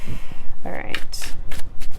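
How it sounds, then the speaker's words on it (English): Playing cards are reshuffled during a tarot-style reading, giving several quick riffling bursts and soft slaps, close and fairly loud, with faint voice sounds in between. "I'm going to reshuffle those because those are all the same cards that just came out."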